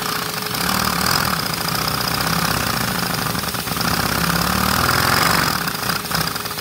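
A small Lego SOHV 4x6 butterfly i2 nitro engine runs steadily, buzzing at close range with a rapid mechanical chatter and slight surges in pace, with no one talking.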